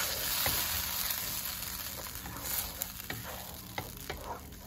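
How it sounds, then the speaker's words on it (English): Tomatoes, some ground, sauté in a pan for a Kashmiri baingan dish with a steady soft sizzle, while a spoon stirs with occasional light scraping taps, close and moderately loud. "we will saute this tomato until it will be mashy and soft"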